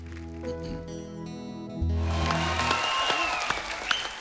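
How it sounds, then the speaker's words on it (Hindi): Music with sustained tones gives way after about two seconds to a burst of audience applause for a standing ovation, with clapping carrying on to the end over faint background sounds. "इनका भी दिल कर रहा है खड़े होकर ताली बजाने को।"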